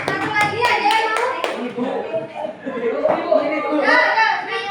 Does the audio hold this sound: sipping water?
no